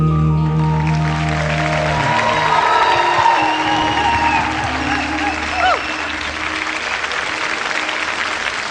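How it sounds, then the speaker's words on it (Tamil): A television singing-contest audience rises and applauds after a Tamil film song, with cheers and whoops mixing into steady clapping as the music fades out beneath it. "ஆச்சரியமா எழுந்திருச்சு கைத்தட்ட ஆரம்பிச்சுட்டாங்க."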